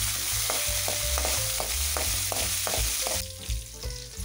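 Slit green chillies fry in hot oil with a loud, steady sizzle, while a spoon scrapes and stirs the pan in a regular rhythm, close up.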